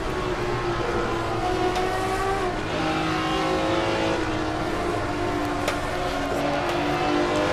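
A BMW sports car accelerating hard near the end of a lap at Willow Springs in Assetto Corsa, its engine a loud continuous rising drone with layered harmonics, steady and close throughout without any voice.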